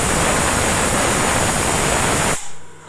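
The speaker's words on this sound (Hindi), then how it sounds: "देखिए ये सीटी दे दिया" Steam rushes from a pressure cooker whistle while jackfruit curry cooks, a loud, steady broadband hiss that holds for over two seconds and then cuts off abruptly.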